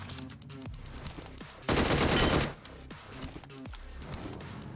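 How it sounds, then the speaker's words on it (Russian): PUBG Mobile gunfire crackles in quick rapid shots, then a dense sustained automatic burst, then more scattered shots, moderately loud with faint footsteps between. "Слева кто-то стреляет."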